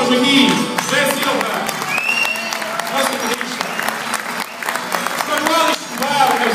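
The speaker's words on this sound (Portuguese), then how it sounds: "Uma grande salva de palmas aqui" Audience applause breaks out after a fado performance, a dense and steady wash of many hands clapping close by, with voices mixed into the crowd noise throughout.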